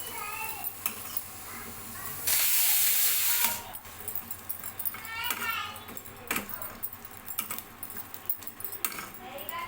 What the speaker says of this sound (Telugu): ఇలా వేయించుకోవాలి కొంచెం దూరగా అయ్యే వరకు వేయించుకోవాలి